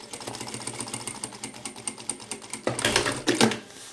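A sewing machine stitches the side seam of a fabric packaging pouch in a steady rapid whirr, running alone, briefly speeding up and growing louder near the end.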